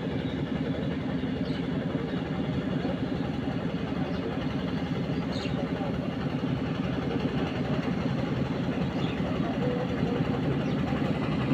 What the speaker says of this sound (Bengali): নৌকা আসতেছে